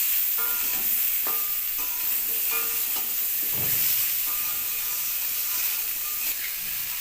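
Spices stir-fried together with papaya and potato in a pan give a steady, close sizzle, broken by repeated scraping clicks of a spatula against the metal. No one talks.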